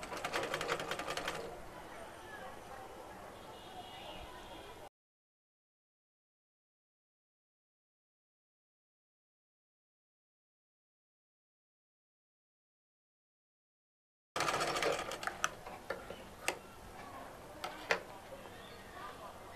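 A sewing machine stitches a neck design on fabric, a close, fast mechanical whirring broken by a long silent gap. A person talks at times over the machine's rattle.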